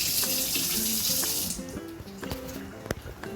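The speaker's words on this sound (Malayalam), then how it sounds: "ഇതുപോലെ ഞാൻ പൈപ്പിൻ്റെ ചോട്ടി വെച്ച് നല്ലപോലെ ഉരച്ച് അതിൽ മണ്ണ് വല്ലതും ഉണ്ടെങ്കിൽ ഇങ്ങനെ അങ്ങ് ചുരണ്ടി കളയും" Potatoes scrubbed by hand under a running kitchen tap, a steady hiss of water with rubbing and scraping knocks, close up and without talk.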